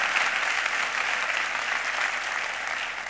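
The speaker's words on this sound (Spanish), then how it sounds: "Fuerte el aplauso." An audience at a carnival murga presentation applauds steadily and loudly for about three seconds, a dense continuous clatter of many hands with no voices standing out.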